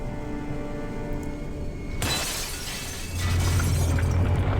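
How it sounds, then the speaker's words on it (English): A loud glass shatter from the video game World of Warcraft bursts in suddenly, followed by a long scattering crash of debris and a deeper rumbling tail that swells toward the end. "That shattering glass sound actually scared me for a second"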